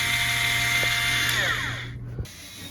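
A GRUTTI electric spin scrubber runs with a steady high motor whine and buzzing hum, then winds down and stops near the end, close and alone.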